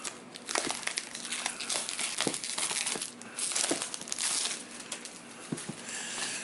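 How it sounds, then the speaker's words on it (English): Headphone packaging is ripped open up close, a steady stream of crinkling, crackling plastic and paper with sharp tearing bursts, no talking. "Just rip the package off."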